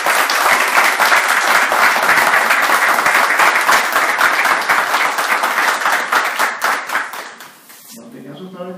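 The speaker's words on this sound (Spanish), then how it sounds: "yo quiero que le demos un fuerte aplauso de bienvenida." A crowd at a political forum gives loud, dense applause to welcome a senator. The clapping stays strong for several seconds, then tapers off as a voice begins to speak.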